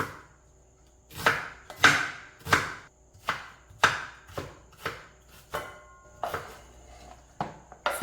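Knife cutting onion on a board at home, a run of about a dozen crisp chopping strokes in a loose, uneven rhythm, close and quiet with no talk.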